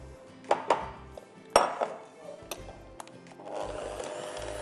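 Cream being stirred into chutney-coated potatoes in a bowl with a spoon, giving a few soft clinks and scraping strokes, close up, in short irregular bursts with no talking.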